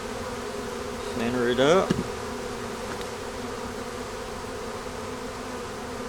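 Honeybees buzz steadily around an open hive, close and even throughout, with a brief louder swell of buzzing as a voice speaks a few words.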